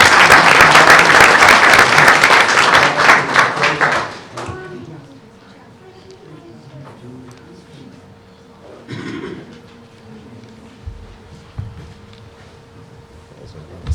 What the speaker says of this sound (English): All right, one more round of applause.